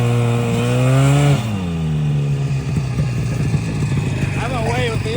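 An old Moto-Ski snowmobile engine, not run in 30 years and with a throttle that sometimes sticks, drones loudly and steadily, dips in pitch after the first second, then settles into a rougher, sputtering run.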